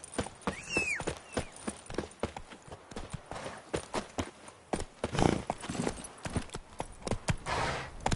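Roach, Geralt's horse in The Witcher 3: Blood and Wine, gallops with a rhythmic clip-clop of hooves, close and fairly loud, with brief swells of other game sounds mid-clip and near the end.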